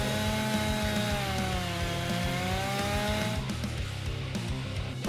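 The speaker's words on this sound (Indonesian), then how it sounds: "Waktunya gergaji mesin." A loud chainsaw drones steadily, its pitch dipping slightly as it works, then the tone roughens and changes near the end.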